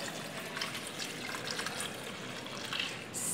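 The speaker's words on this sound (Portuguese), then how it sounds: "nós vamos colocar aqui, ó, um litro de água" A liter of water is poured onto grated neutral glycerin and coconut soap, giving a steady, fairly close splashing gush that runs unbroken with no voices.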